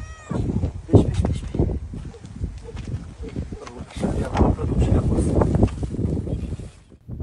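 Cats gathered around a shepherd's home in the Garmiyan countryside meow repeatedly at close range, mixed with people talking nearby.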